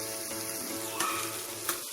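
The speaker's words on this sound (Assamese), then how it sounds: "এয়া এইখিনি অকণমান সময় ভাজি লৈছে, যাতে ৰংটো অকণমান ধুনীয়া ৰং এটা আহে।" A small onion fries in hot oil for an Assamese lai saag khar, giving a steady, close sizzle throughout with a couple of brief sharper crackles. No voices are heard.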